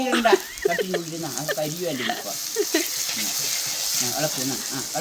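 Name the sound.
stirring frying fish curry with curry leaves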